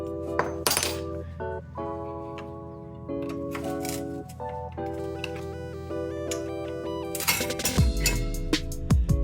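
Metal clinks and clanks as the grate comes off a 1992 Yamaha factory Z jet pump, with scraping metal contact in short bursts and a louder rattle near the end.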